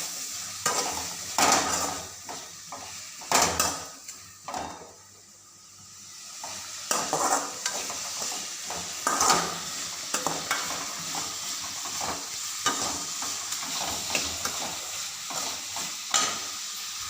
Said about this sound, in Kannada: ಟೊಮೊಟೊ ಹಾಕ್ಕೊಂಡು ಸ್ವಲ್ಪ ಫ್ರೈ ಆಯಿತು.